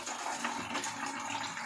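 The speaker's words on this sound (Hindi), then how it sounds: "मेरे ये 2 चनों के बर्तन ये वॉश कर रही हूँ मैं।" Tap water runs steadily as utensils used for chickpeas are washed in a home kitchen, a faint continuous splashing rush without voices.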